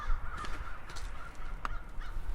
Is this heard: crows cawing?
yes